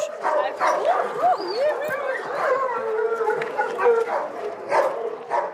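Several dogs at an animal shelter bark, yip, howl and whimper close by in a continuous, overlapping chorus, with a voice talking underneath.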